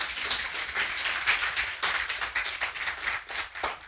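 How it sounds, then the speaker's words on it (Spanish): A church congregation claps together in a dense, continuous patter of many hands, moderately close and fairly soft, rising and dipping slightly over a few seconds. "Dale un fuerte aplauso a ese Dios maravilloso."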